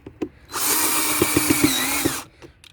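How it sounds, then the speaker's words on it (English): Power drill driving screws into the cargo bed of a 24V RealTree ride-on toy, one loud, close whirring run of about two seconds with a few clicks as the screw seats, then a couple of light knocks. "Now I'm just putting the screws in."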